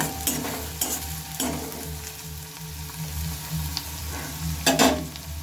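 Thinly sliced ingredients for a cauliflower and wheat flour dish stirred in a frying pan, spatula scrapes landing every second or so over a low steady sizzle, close and without speech.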